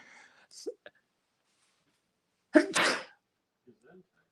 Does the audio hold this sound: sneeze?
yes